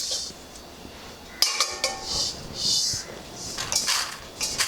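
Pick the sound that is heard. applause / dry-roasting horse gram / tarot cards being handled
dry-roasting horse gram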